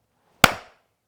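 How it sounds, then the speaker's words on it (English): A single sharp hand clap heard through electronic hearing protection earmuffs, one loud close crack with a short decaying tail, isolated in otherwise near silence. "How about if I clap?"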